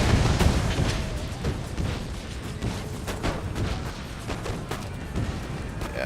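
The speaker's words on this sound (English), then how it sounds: "We're gonna get some grenades going off." Grenades burst over and over in an Empire Total War multiplayer battle, a dense, loud clatter of booms and pops layered over a continuous roar of battlefield noise.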